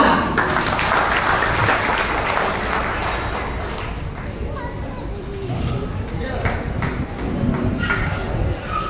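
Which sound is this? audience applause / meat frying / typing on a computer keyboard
audience applause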